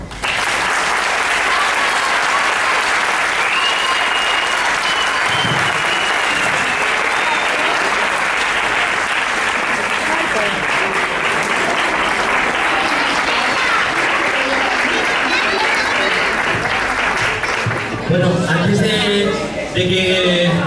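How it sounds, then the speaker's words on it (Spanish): Sustained loud applause from a graduation audience fills the room for about twenty seconds, dense steady clapping with crowd murmur and voices underneath, tapering near the end. "Un fuerte aplauso."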